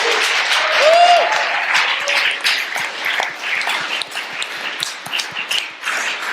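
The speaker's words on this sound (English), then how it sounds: "can we just have a massive round of applause for Professor Sophie Scott" A conference audience at OpenCon London 2017 gives sustained, loud applause for Professor Sophie Scott, a dense, steady wash of clapping throughout with a few cheers and whoops rising above it.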